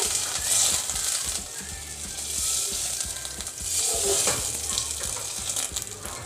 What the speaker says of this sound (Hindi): बटर मेल्ट हो रहा है इसमें